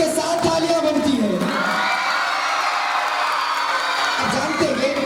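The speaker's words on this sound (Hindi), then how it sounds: "आवाजों के साथ तालियां बनती है।" At a school annual day, a crowd claps while voices whoop and cheer over it, a continuous loud roar of mixed shouts and applause throughout.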